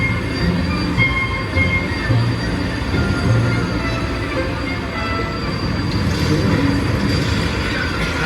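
Universal Studios Hollywood studio tour tram at the Jaws Amity Island set rolls along with a steady, loud rumble and rattle of wheels, plus faint high squeals, continuous throughout with no talk.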